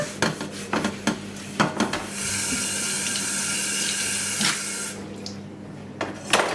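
Water runs from a tap into a kitchen sink while a single pan is washed up, with clanks of the pan and cutlery at the start and end around a steady, hissing stream.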